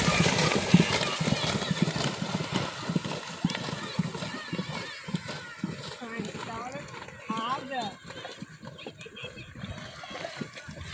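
Horses gallop at speed in a race, a dense, continuous run of hoof clatter with scattered splashy thuds and an occasional whinny, heard under constant excited talk.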